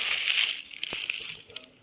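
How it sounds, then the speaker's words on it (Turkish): Paper crinkling and crushing up close, a steady rustle broken by sharper crackles as sheets are balled up. "atık kağıtları buruşturup"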